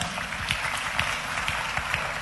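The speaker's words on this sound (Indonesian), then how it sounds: "Beri tepuk tangan yang meriah." Church congregation applauding during a sermon, a steady dense wash of many hands clapping at moderate loudness with no voices on top.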